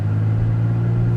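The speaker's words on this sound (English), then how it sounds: "I'm going to brake boost it here." A 2023 Kia Stinger GT2 engine holds a steady, loud, low rumbling drone while brake boosting at a standstill, with a constant hum and no rise in pitch.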